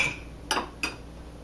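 A knife cuts a slice from a Chicago-style deep dish skillet pizza topped with mozzarella, giving two short, sharp clinks about a third of a second apart against the pan, with quiet in between.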